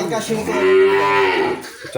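A Holstein Friesian heifer at a cattle sale gives one loud, close, drawn-out moo that lasts about a second and a half.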